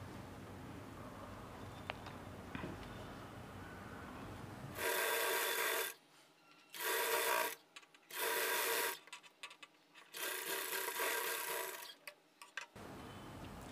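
A sewing machine runs in several fast bursts, stitching down a folded hook-and-eye belt on a star or V-neck blouse, each rapid whirring run separated by short pauses, close and clear over a quiet room.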